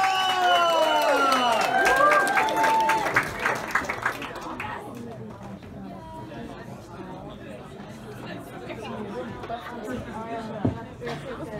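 Comedy club audience at a London venue breaks into loud clapping and cheering with chatter and whoops, dense at first and then tapering off into scattered murmurs and a few claps.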